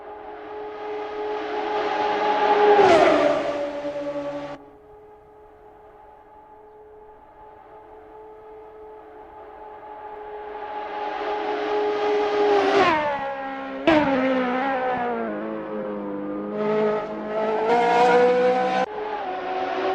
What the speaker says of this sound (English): Watch as Sunnoiler takes it nice and easy on this outlap